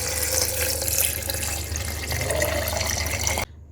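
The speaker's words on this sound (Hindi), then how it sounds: "इसमें मैं 2 गिलास पानी ऐड कर दूंगी" Water poured into a blender jug of cherries, a steady splashing, gurgling stream that runs nearly continuously and then stops abruptly at the end.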